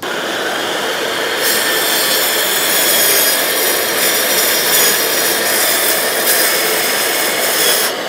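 A cordless plunge track saw cuts through wood with a steady, loud, high-pitched motor whine and blade rasp that runs unbroken for several seconds, with no talk.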